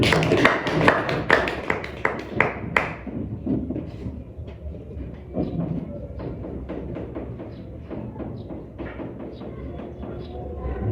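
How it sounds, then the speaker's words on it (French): Audience applause in an indoor seminar hall, a dense burst of clapping for about three seconds that thins to scattered claps and fades under room murmur and low rumble. "Tu peux applaudir pour ce monsieur."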